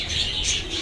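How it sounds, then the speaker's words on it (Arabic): Mazar pigeons, white birds with head crests, give soft low cooing with faint chirps and bird movement, close by and steady for under a second with no talk. "ده حمام مزار اهو، ابيض بطرطور"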